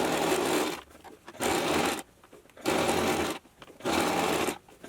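A sewing machine whirs in several quick bursts while stitching down a zipper, each a rapid mechanical stitching rattle separated by short pauses.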